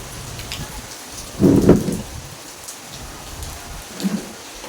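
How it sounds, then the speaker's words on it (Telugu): Heavy rain pours down in a steady, dense hiss, broken by two deep, low rumbles of thunder, the first stronger than the second, with no voices. "వర్షం అసలు వర్షం తగ్గేలాగలేదు"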